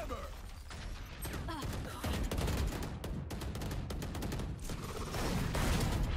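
Rapid, dense gunfire in a competitive video game shooter, with a steady run of sharp shots that continues under excited talking.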